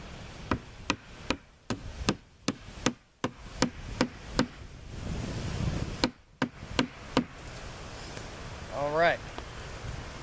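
A hatchet's hammer back pounds the legs of a handmade bushcraft bench into place outdoors, giving about a dozen sharp, evenly spaced knocks on wood. A short pause breaks the run before a few more strikes follow, with a brief whistle-like call near the end.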